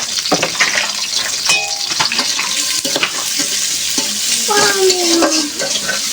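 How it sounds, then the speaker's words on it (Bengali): Onion and garlic fry in hot oil in a kadai, a steady broadband sizzle with scraping spatula strokes and clinks of stirring throughout, fairly loud and close with no voices. "কড়াইতে পেঁয়াজ রসুনটা দিয়ে দেব পেঁয়াজ রসুনটা লাল লাল হতে লাগুক"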